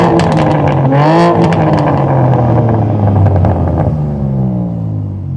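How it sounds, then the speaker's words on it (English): A tuned BMW M4 Competition with a big rear wing and quad tailpipes revs hard, its engine note rising sharply then falling back into a loud, steady rumble, close and alone. "Sam, give it a rev, let's hear it."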